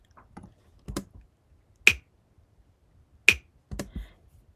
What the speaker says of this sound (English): I have this, I don't know how is it called, clapping, that I recorded with my hand